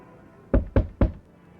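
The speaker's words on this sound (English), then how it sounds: "Stop banging my door." Three loud, sharp bangs on a door come in quick succession, close and forceful, after a quiet lead-in.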